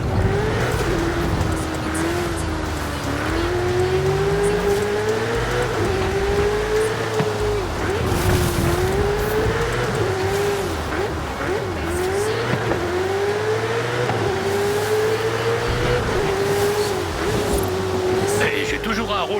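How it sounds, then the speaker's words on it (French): A race car drifting in Forza Horizon 5 holds a long, wavering tire squeal over a steady engine drone for the whole stretch. The squeal bends in pitch as the slide continues, and a voice speaks over the game audio. "Waouh, ce dérapage!"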